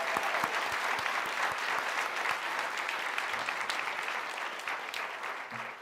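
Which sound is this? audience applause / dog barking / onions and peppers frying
audience applause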